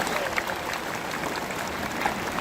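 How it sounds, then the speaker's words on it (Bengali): A crowd of children in a stadium applauds steadily for a gift of bags from the Chinese ambassador, with a dense, even wash of clapping throughout. "তার জন্য এবার একটা জোরে হাততালি দাও"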